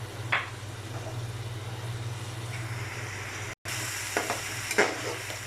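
Turmeric and red chili powder are stirred into duck curry frying in a pan, a steady close sizzle with occasional scrapes of the spoon, continuous and fairly loud with no voices.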